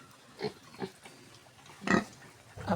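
Young pet pigs, about 15 days after purchase, grunt while eating heartily in a farm pen: three or four short, loud grunts close by, with a burst near the end, and no talk.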